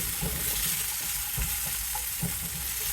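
Leftover potatoes warming in a pan, giving a steady soft sizzle and frying hiss throughout, with a few quiet stirring scrapes and taps and no talk.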